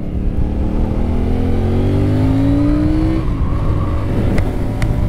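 A CF Moto 450CL-C motorcycle engine accelerates hard from close by, its rising drone climbing in pitch before the revs drop as it shifts, then settles into a rougher steady pull with wind noise.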